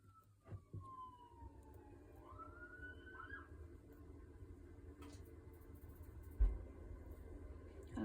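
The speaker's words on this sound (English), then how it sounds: "Ambulance going past." An ambulance siren wails faintly in the distance, a few rising and falling sweeps passing by under a low background hum of traffic, with a couple of soft knocks nearby.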